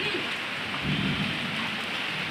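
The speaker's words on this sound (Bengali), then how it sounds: "টিনের থেকে যে পানি পড়ে এটা বোঝা গেছে" Rainwater pours steadily off a tin roof during a hailstorm, a dense, continuous rushing patter with no voices.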